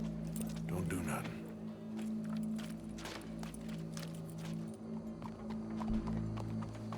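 Hooves of a horse in the video game Red Dead Redemption clip-clop in an uneven rhythm beneath a steady low hum, with people talking over the sound throughout.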